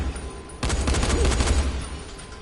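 Enemies shooting guns in the video game Dying Light: after a quiet moment, a sudden close burst of rapid automatic fire rattles for over a second, then fades into low ambient rumble.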